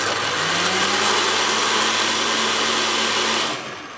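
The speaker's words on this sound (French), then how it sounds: "Et on va faire tourner notre mixeur." A kitchen blender whirs steadily at full speed, blending gazpacho vegetables with a little water, a loud continuous motor whine lasting about three and a half seconds before cutting off.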